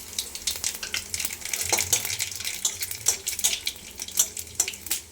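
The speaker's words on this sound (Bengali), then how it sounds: "তেল গরম হলে এর মধ্যে কালো জিরা, শুকনো লঙ্কা আর রসুন দিয়ে ফোড়ন দিব" Nigella seeds, dried chilies and garlic hit hot oil in a pan with a steady bright sizzle, broken by scraping stirs and soft clinks of a spoon against the pan, with no one talking.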